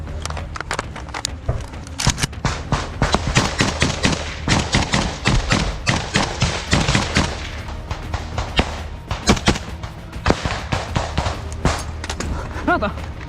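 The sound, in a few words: gunfire in close combat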